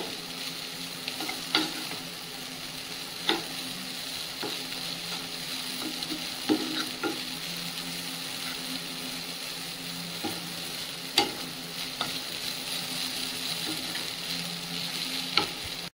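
Bitter gourd and potato slices fry in a pan with a steady, close sizzle, broken by occasional sharp crackles and stirring clinks from a utensil.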